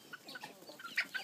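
Backyard chickens, including a Silkie hen, give soft, scattered clucks and short calls at close range, with a brighter squawk near the end.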